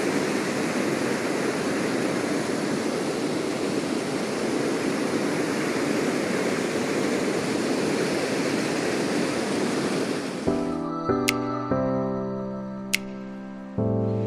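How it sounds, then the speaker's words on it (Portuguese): A loud, constant rush of falling water from Cachoeira dos Couros in Chapada dos Veadeiros, Goiás, fills most of the stretch, then cuts off abruptly and gives way to sustained musical tones near the end. "Olha essa queda d'água, hein? Impressionante."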